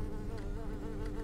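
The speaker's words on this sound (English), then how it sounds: "Got all the fucking bugs by that blood" Flies and other bugs buzz around blood in the Left 4 Dead 2 zombie shooter, a dense, steady insect drone that stays loud and continuous through the whole short stretch, with no talking over it.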